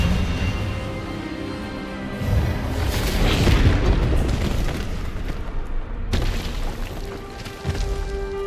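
An Expelliarmus spell is cast during a duel in the Hogwarts Legacy video game, a loud, rumbling magical blast with booming impacts that swell, cut off sharply and return.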